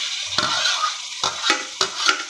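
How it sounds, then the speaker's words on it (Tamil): Tomatoes hit a pan of sautéed onions for a home-style biryani, giving a short sizzle with several sharp scraping stirs of a spatula against the pan, close and moderately loud with no talking. "வெங்காயம் நல்லா வதங்கிடுச்சு இப்போ வந்து நம்ம தக்காளி ஆட் பண்ணிக்கலாம்"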